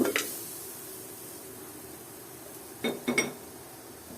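A metal vessel picked up and set down in a kitchen while making coconut laddoos: two brief bursts of clinking and clattering separated by quiet hiss, close by, with no voices.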